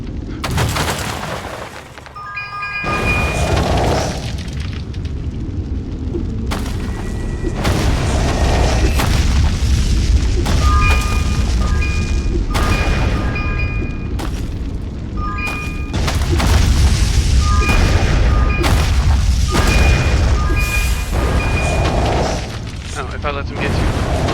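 Booming explosions go off repeatedly in the VR game Wrath of the Fire God, loud blasts layered over game music and effects, with a player talking throughout.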